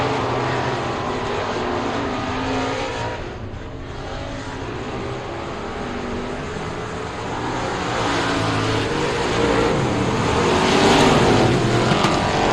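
Race cars roaring off at the start of a race at Rocket Raceway Park, a dense continuous engine drone that swells louder toward the end, with no talk over it.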